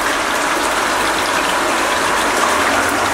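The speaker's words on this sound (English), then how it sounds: "Flooding nicely there." Water gushes loudly and steadily into a flood-and-drain grow bed fed through inch-thick pipe, a close, continuous rushing wash with no talking.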